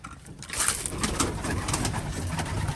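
Several racing pigeons, mostly Janssen strain, coo softly and continuously in a loft, low burbling calls overlapping with faint rustling, no speech.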